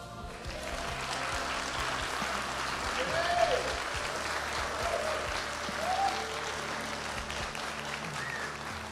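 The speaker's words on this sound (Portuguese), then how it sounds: "Eu vou pedir uma salva de palmas para o aniversariante Jesus Cristo" An audience at a church Christmas programme applauds steadily, a broad wash of many hands clapping at a distance with a few voices calling out over it.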